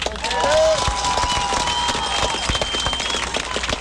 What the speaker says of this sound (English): Please give another round of applause for tonight's homecoming candidates.